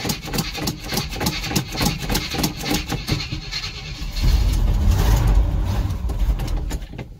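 A Chevy Squarebody K30 truck engine cranks with a rapid, rhythmic starter churn for about four seconds, then catches and roars into a loud, rumbling idle up close.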